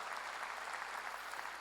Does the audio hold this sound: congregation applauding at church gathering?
yes